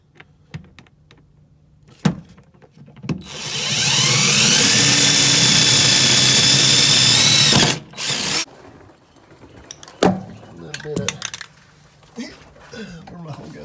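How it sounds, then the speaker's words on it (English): A power drill bores a starter hole into the metal body of a Sprinter van during a hydronic heater install: a loud, sustained high whine of about four seconds, framed by handling clatter and brief bumps. "Okay, I'm going to drill me a little starter hole."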